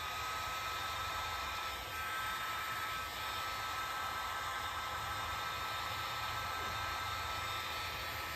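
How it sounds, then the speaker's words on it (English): Heat gun blowing hot air steadily onto a glued plumbing fitting on a split pipe, a continuous loud broadband whoosh close by with no breaks or talk. "I'm going to try and just do it with the heat gun first and see how far I get."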